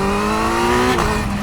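Kawasaki Z900 motorcycle with a stage 2 ECU pulls from second gear on a German street, a loud, rising engine drone heard close for a brief moment.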